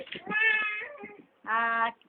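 A person imitates a cat, giving two drawn-out, nasal meows with a short pause between them and a few soft vocal sounds before the first.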